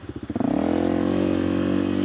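An off-road vehicle climbing a trail with low-down torque chugs in pulsing low beats, then revs up into a steady, loud, close engine drone.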